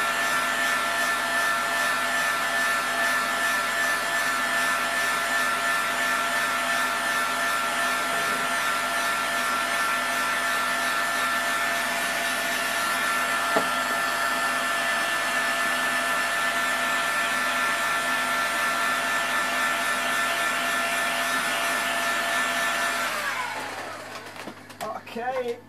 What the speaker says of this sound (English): Let's see whether that's enough heat in there now to make that just work into place.